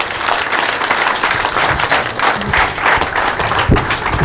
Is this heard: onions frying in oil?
no